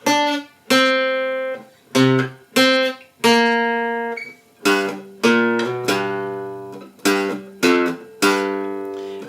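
An electric-sounding guitar plays a G blues riff over the five and four chords, with a loud, close string of plucked notes and short double-stops that ring and decay in a rhythmic shuffle, with no voice.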